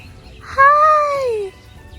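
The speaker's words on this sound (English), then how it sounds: "Crowned crane." A crowned crane at a park in Nigeria gives a single clear, drawn-out honking call lasting about a second, loud and close against quiet outdoor background, with no voices.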